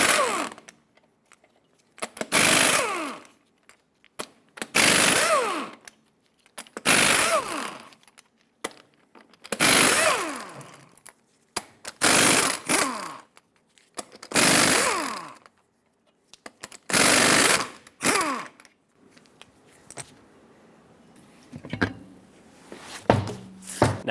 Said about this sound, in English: Use a 24mm socket and remove all 8 of your lug nuts